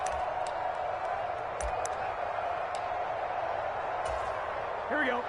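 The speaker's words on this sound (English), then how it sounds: "This crowd doing all they can." Crowd noise inside a football video game, a steady moderate roar of spectators near the goal line with a few sharp thuds and a brief voice near the end.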